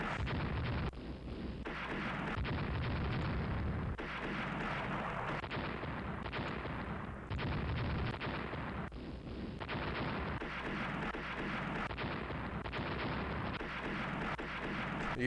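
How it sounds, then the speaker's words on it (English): Naval gunfire bombardment in a naval strategy game set with Austria-Hungary's fleet, as a continuous rumbling barrage of heavy booms and blasts, loud and dense throughout, with no talk. "Start bombarding it."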